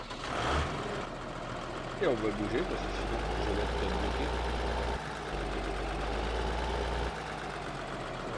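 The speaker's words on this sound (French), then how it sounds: "Donc là on va prendre notre tracteur" A farm tractor engine idles with a deep, steady low rumble during a field harvest, running under someone speaking French.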